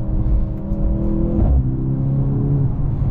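Mercedes C63 AMG engine pulling hard under acceleration from inside the car, a loud steady droning roar with a brief surge and shift midway; exhaust pops are not distinct.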